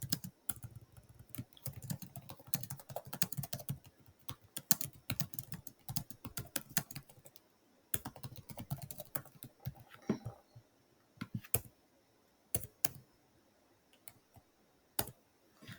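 Rapid clicking keystrokes on a computer keyboard come in bursts with short pauses, close and fairly quiet. Isolated single key taps follow near the end.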